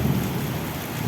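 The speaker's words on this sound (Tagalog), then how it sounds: "Kumukulog, kumikidlat." Steady rain pours down during a thunderstorm in Saudi Arabia, a dense continuous hiss with low rumbling beneath, close and even throughout, with no distinct thunder crack standing out.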